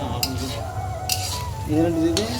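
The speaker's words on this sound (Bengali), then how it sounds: "এখন গোশ দিয়ে নাড়ানাড়ি চলছে" A spoon stirs goat meat curry with onions in a sizzling pan, giving steady scraping and clinks over frying hiss, with tonal sounds in the background.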